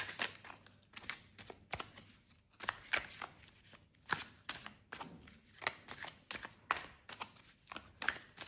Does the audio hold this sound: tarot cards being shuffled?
yes